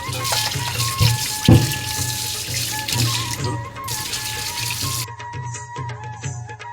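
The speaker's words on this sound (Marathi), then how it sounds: "हे आपण पाणी पलटी करून पुन्हा एकदा धुवून घेतो" Water pours out of a vessel and splashes as freshly scaled fish are rinsed again, a steady running gush with occasional knocks, easing off near the end.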